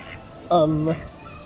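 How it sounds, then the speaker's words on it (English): A duck at EPCOT trying to eat popcorn, giving one short nasal quack-like honk of about half a second, close and fairly loud, amid outdoor park background noise. "I think a duck is trying to eat my popcorn."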